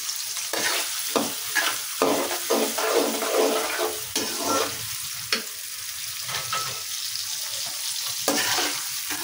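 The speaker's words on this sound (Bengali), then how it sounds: "পেঁয়াজটা ভালো করে ভেজে নেব।" Onions frying in a pan for a noodle dish, a steady close sizzle with repeated scraping and stirring strokes throughout, no voices.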